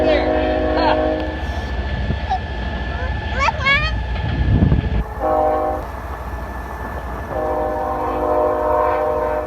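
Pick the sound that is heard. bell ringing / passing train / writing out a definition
passing train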